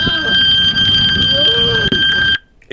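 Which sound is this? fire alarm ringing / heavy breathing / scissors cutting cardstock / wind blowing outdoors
fire alarm ringing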